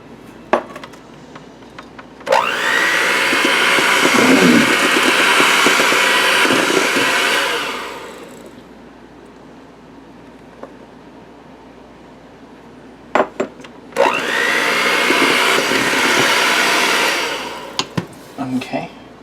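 An electric hand mixer whirs through thick brownie batter in two steady runs of about five seconds each, separated by a pause filled with clinks of beaters and spatula against the bowl.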